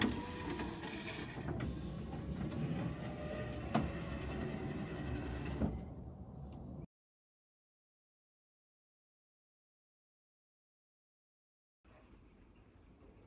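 A Lincoln Cartier car's power window motor gives a steady mechanical whirring hum for several seconds, close by, that stops abruptly, followed by silence and then faint background noise.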